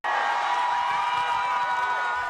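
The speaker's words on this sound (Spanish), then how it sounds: "Saludó a un centenar de simpatizantes que la recibieron con una ovación y gritos de libertad" About a hundred supporters greet María Corina Machado in Venezuela with an ovation and shouts of freedom, a dense, steady roar of cheering and chanting voices.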